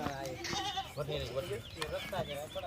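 Goats, one a prized bakra in a line-up of show animals, bleat repeatedly in short wavering cries while someone talks over them close to the recording.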